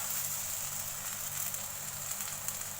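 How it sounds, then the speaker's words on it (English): Garlic and red chili flakes sauté in oil for gongura pickle, giving a faint, steady, even sizzle with no voices over it. "So I'll keep sauteing it for just a little while till it combines together"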